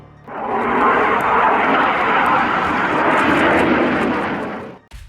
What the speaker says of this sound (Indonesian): Yak-130 adalah jet tempur yang didesain untuk latihan dan pertempuran.